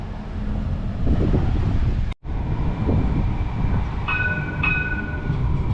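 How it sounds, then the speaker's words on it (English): A Cincinnati streetcar arrives at a city stop with a loud, steady rolling rumble, a brief dropout partway through, then a couple of high metallic squeals from the wheels as it slows, with no voices. "The Cincinnati Streetcar has arrived."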